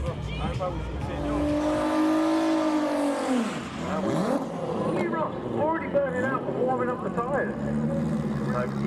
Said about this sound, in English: Lee is pulling up to the line and Kiel is not yet in the burnout box.